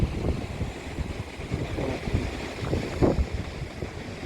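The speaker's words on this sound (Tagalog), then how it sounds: "Ang lakas po kasi ng alon." Strong sea waves churn and surge continuously at sea, under heavy rushing wind noise, with no talk.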